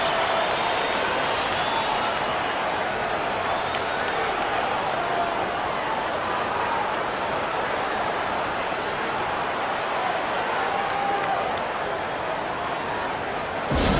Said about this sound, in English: Show some love and clap your hands.